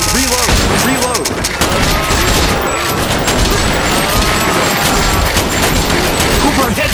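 Loud, relentless gunfire in the video game Time Crisis 5, with overlapping shots and booming impacts forming a constant fusillade, with voices mixed into the din.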